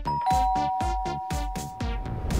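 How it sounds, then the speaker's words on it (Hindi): A doorbell rings with a repeated ding-dong chime several times in quick succession, fairly close and clear. "एक सेकंड, यहाँ घंटी है।"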